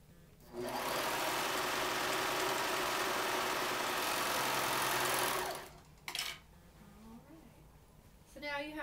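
A sewing machine runs in one continuous burst of about five seconds, stitching two fabric bag pieces together up close, then stops, followed by some handling noises and faint speech at the end.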